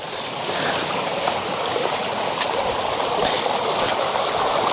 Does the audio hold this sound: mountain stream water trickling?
yes